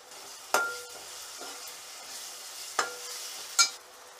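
Ginger garlic paste frying in a pan for kulith amti, a soft steady sizzle broken by a few sharp clinks of a spoon stirring against the pan.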